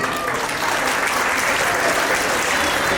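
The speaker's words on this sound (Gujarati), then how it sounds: "સારો લાગ્યું તો તાળીઓ પાડજો" School audience at a Gita Jayanti celebration breaking into sustained applause, a loud, even roar of many hands clapping throughout, with no pauses.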